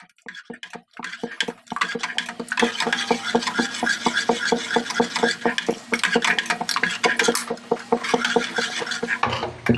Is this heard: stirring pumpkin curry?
yes